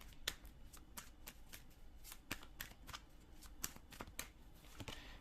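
Tarot cards being shuffled and drawn, quiet close riffles and crisp snapping slaps in an irregular rhythm, with no talking during the clip.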